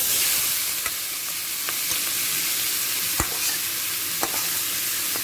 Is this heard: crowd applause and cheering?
no